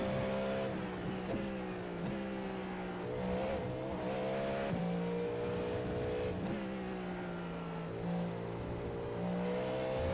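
Cadillac GTP race car engine in iRacing, a continuous loud drone with repeated sharp downshift blips and pitch swings as it brakes and accelerates through corners.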